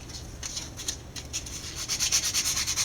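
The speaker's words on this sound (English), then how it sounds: "you take some sandpaper. This is 180 grit. No, this is 150 grit on a sanding block." Dried excess glue is sanded away with 150 grit sandpaper on a sanding block, heard as close rhythmic rasping strokes that quicken and grow louder toward the end.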